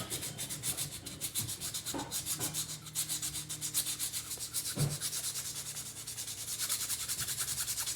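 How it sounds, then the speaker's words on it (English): The edge of a silver ring, made from a Year of the Dragon silver round, is sanded by hand in fast, even back-and-forth rubbing strokes, close and steady throughout, with no talking. "I'm going to go ahead and sand on this edge a little bit since it's kind of presenting itself now"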